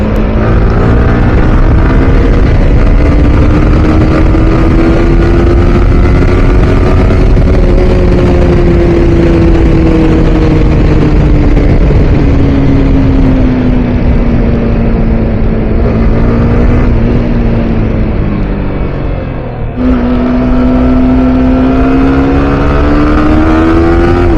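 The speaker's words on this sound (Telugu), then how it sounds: "just have some visuals of a bike and sound కూడా వినండి" A motorcycle on an evening ride, its engine droning loud and close with a steady hum that rises and falls gently as the throttle changes, briefly dipping near the end before picking up again, with no talk.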